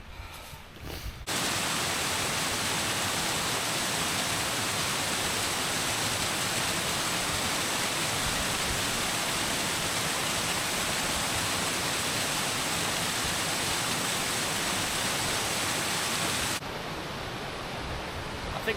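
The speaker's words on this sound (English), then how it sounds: "There's just waterfall after waterfall, cascades, plunge pools." Waterfalls and cascades of Ruddy Gill, a mountain stream with plunge pools in winter, roar as a steady, dense rush of water close by. The sound starts abruptly and holds unbroken for about fifteen seconds before dropping slightly.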